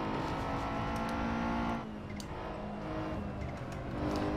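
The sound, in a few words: car engine revving in a racing video game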